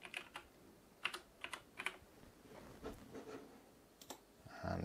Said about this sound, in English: and then type in memory.